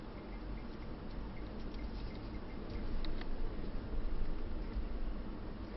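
A car splashes steadily through standing water on an off-road driving course, a continuous broadband wash of spray and churning water that swells louder midway, with faint dripping and no talk.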